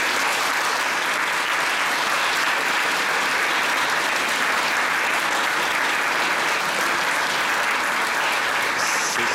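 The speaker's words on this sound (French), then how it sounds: "Nous pouvons les applaudir." A church congregation applauds steadily for several seconds, a dense wash of clapping from many hands heard at moderate distance with no break.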